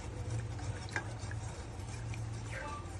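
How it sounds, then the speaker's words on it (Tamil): A spoon stirring lemon juice and honey into a cup of butterfly pea flower tea, faint soft clinks and swirling against the cup over a low steady background hum. "அதுக்கப்புறம் என்ன பண்ணணும், இப்படி கலக்கணும்"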